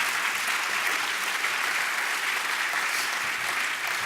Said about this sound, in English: I like that applause, yeah.